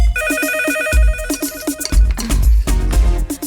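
A mobile phone ringtone rings loudly and close, a bright repeating electronic melody with steady rhythmic notes that carries on for several seconds, heard alone with no talking.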